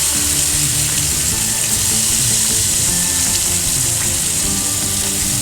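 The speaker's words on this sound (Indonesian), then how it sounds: "minyaknya sudah panas, kita masukkan satu persatu ayam kecap ketumbar ini." Soy sauce and coriander chicken pieces sizzling in hot oil, a loud, dense, continuous crackle and spatter up close, with no voices.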